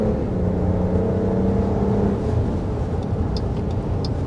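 A 2024 Jeep Wagoneer SUV engine pulling steadily under acceleration, a continuous low hum and whir heard from inside the cabin, without talk.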